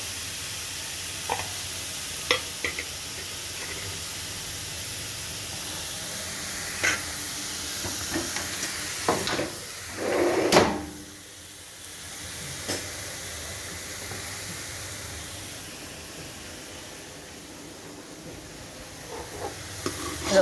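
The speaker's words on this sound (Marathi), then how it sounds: "का हा परतला गेला आपला कांदा" Onion being lightly sautéed in a pan gives a steady, moderate sizzling hiss throughout, with a few spoon taps and a brief louder scrape of stirring midway.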